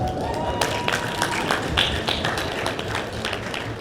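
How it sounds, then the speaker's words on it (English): Audience applause at a debate tournament grand final, dense clapping with sharp individual claps standing out near the front, sustained throughout. "Let's give them a round of applause"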